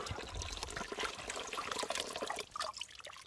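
Mountain stream water source in the Great Smoky Mountains, continuous close gurgling and trickling flow with splashy bubbling, no talk.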